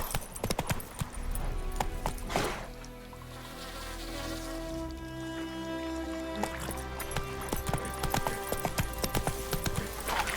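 Geralt's horse Roach galloping in The Witcher 3, rapid rhythmic hoofbeats pounding close amid buzzing insects, a steady clip-clop that continues throughout.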